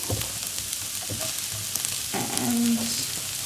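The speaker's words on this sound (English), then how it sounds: "We're going to add the onion" Onion added to a pan of oil after lamb mince, frying with a soft, steady sizzle and a few light clatters, no voices.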